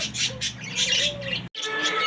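Red collared doves call in short repeated bursts close by, with chirps and squawky notes over a low hum, no talking.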